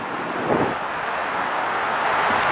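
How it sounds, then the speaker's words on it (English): Strong wind roars steadily across the microphone, a loud, continuous rushing buffet with no pauses. "It's very windy."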